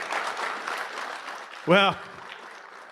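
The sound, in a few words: audience applause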